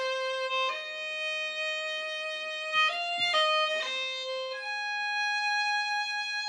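Contemporary solo violin sample library for Kontakt, sustained clean, delicate bowed notes shifting between a few pitches, soft and alone with no talk.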